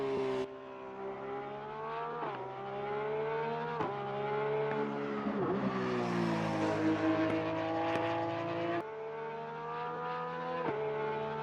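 A Porsche 991 GT3 race car in Assetto Corsa Competizione screams at high revs, its loud, steady engine tone rising and dipping through several gear changes, with no one talking.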